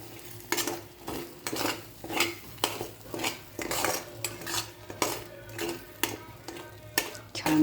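Spices sautéed in a pan for paneer fry, with a spoon scraping and clinking against the pan in a steady stirring rhythm over a faint sizzle, close up and without talk.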